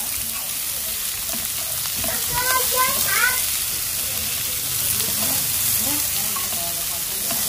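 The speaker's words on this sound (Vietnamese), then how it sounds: "ta sẽ cho khóm vào, cho hết cái phần khóm của mình vào nha. Rồi các bạn hãy xào nó lên nha" Pineapple and garlic sizzle steadily in a hot pan while being stir-fried, with a constant crackling hiss and brief scraping stirs near the middle.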